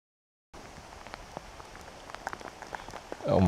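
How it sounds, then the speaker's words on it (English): Steady rain patters continuously on a surface in the Yorkshire Dales, starting abruptly after a brief silence and swelling louder near the end. "Oh my God, it's really raining."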